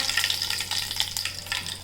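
Mustard seeds and curry leaves hit hot oil for a tempering, giving a bright, crackling sizzle that rises and falls in quick bursts. Short and close, with no talking.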